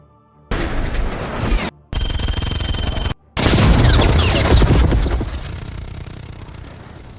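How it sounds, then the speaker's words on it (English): Missile strikes from a naval base against a US submarine in a submarine war movie: loud, dense blasts in three bursts separated by short gaps, ending in a long rumbling roar that slowly fades. "Polyarny Naval Base launches missile attacks against Arkansas"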